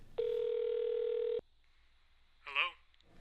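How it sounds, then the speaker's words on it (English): A telephone dial tone sounds as a call is placed, a loud, steady hum held for just over a second before cutting off abruptly, followed by quiet and then a brief faint burst of sound. "So now I'm going to go ahead and make a phone call"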